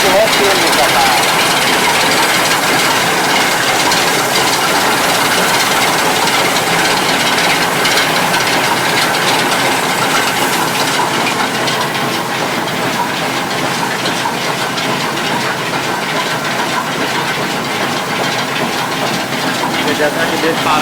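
A solar-powered 20-inch oil expeller mill in Gaya, Bihar runs while pressing out oil and oil cake, giving a loud, steady mechanical drone and rattle that holds without a break throughout.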